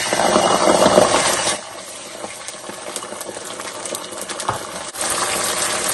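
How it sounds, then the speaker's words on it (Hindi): Half a cup of crushed tomato tipped into a pan of lightly browned onion and garlic for a Rajasthani gawar phali sabzi, giving a loud, wet sizzle for a second or so before settling into quieter, steady frying; no talking. "अब हम इसमें जो सा है हाफ कप क्रश टोमेटो का डालेंगे।"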